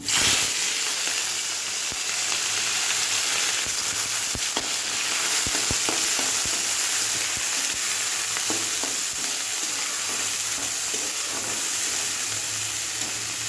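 Small shrimp and dried chilli frying in a pan give a loud, steady sizzle with faint stirring clicks throughout, no voices.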